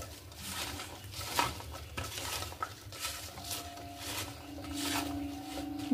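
Cut water lily (shapla) stems being hand-mixed with salt in a metal bowl, soft wet squelching and rustling with occasional clinks and knocks against the bowl, fairly quiet and close.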